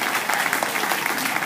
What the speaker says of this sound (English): Big round of applause for our girls.